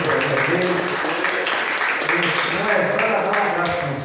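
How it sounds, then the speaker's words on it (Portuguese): Continuous, moderately loud clapping from a church congregation at a worship service, a dense wash of claps with voices mixed in throughout. "Aplausos para Deus."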